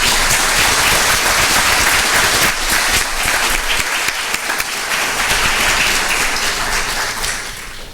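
A congregation applauds for Jesus during a Pastor's Day church service: a continuous, loud wash of many hands clapping that holds steady throughout without letting up.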